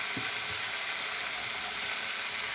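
Malabar spinach hits a hot pan already holding ground cumin and ginger paste, giving a loud, continuous sizzle close up with a few soft knocks of stirring near the start.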